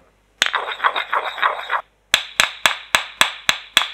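A continuous grinding scrape for over a second, then a pause followed by seven evenly spaced hard pestle thuds pounding Thai red curry paste in a mortar, loud and close.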